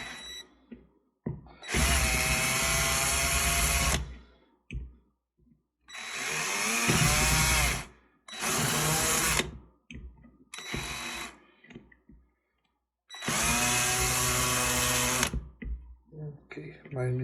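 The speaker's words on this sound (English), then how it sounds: "I will use a drill." A power drill whines in several loud bursts of a few seconds each, drilling into the plastic casing of a Renault airbag unit, its pitch shifting under load with short pauses between runs.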